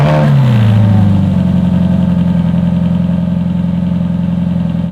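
A Ferrari F430 engine fires up after an oil change, with a loud starter catch and brief rev that settle within a second into a steady, throbbing warm-up idle close by.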